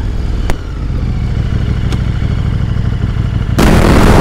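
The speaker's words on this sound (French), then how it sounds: "Là, c'est le moteur, là, c'est l'échappement." A motorcycle engine rumbles loudly and steadily close by, its exhaust growling, with a sharp click and a sudden surge in volume near the end.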